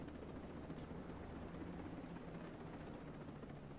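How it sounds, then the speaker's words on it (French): A helicopter flies in a video game, its broad rotor and engine roar holding steady and fairly faint throughout, with no voices. "On va faire un peu du repérage en hélico."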